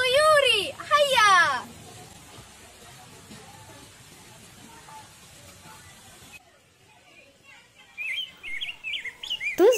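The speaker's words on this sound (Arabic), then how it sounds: "الآن هيا نرى متنوعة من الطيور" Bright birds chirp in quick bursts at the start and again near the end, with children's voices and general chatter in between.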